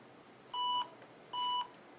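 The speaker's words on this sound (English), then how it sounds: "It's gonna beep a lot at you." An IBM ThinkPad 380XD laptop at power-on with an error gives two clear electronic beeps, each about a quarter second long, spaced under a second apart, over a faint background hiss.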